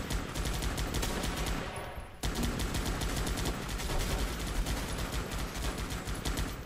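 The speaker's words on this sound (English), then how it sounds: "Well-placed focus fire." Focus fire in Guns Up!, dense continuous rattling gunfire from many weapons at once, loud and unbroken except for a brief dip partway through, with no talk.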